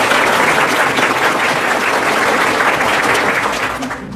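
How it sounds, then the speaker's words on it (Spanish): A crowd applauds loudly and steadily for several seconds at a religious debate, the clapping fading slightly at the end. "Recibamos, hermano, con un fuerte aplauso."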